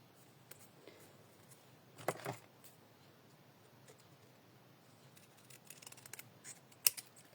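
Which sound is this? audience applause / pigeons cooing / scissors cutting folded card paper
scissors cutting folded card paper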